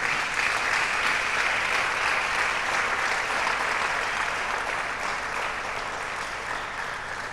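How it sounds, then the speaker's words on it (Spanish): Church congregation applauding, a broad continuous wash of many hands clapping, loud and even throughout with no talk over it. "Denle un aplauso al Señor, hermano, démosle gracias al Señor."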